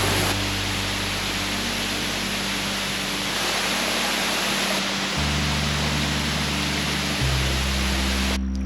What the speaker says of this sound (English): This is the real waterfall.